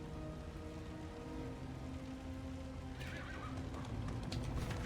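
A horse in the video game Darkest Dungeon 2 whinnies and clip-clops amid a steady rain-like hiss, with a sharper burst of hooves and noise near the end.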